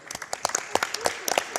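Audience applause for a tech team at a Summer Games Done Quick 2017 speedrun event, a short burst of scattered claps with some voices mixed in.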